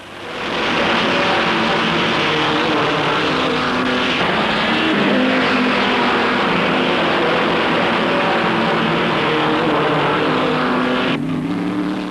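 Racing cars roar on the Zandvoort circuit among the sand dunes near Haarlem, a Maserati among them, a dense continuous engine drone lasting the whole stretch, loud and steady with a slight shift near the end.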